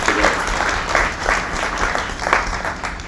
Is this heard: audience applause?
yes